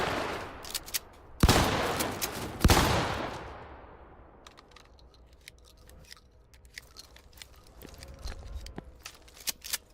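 Shotgun blasts in a video game, with two loud sharp shots early followed by a quieter stretch of small clicks and mechanical handling sounds.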